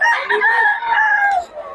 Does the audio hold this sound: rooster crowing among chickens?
yes